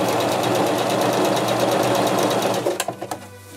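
Sewing machine sewing a stitch, a fast continuous mechanical chatter close up and loud, slowing into a few separate clunks as it stops at the end.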